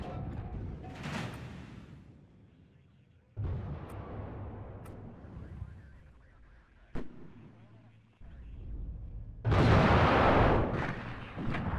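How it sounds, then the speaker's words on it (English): Heavy booms from an anti-tank gun firing in the war game WARNO, spaced several seconds apart, each loud blast trailing into a long rumbling decay with a sharp crack in between. "That is an AT gun."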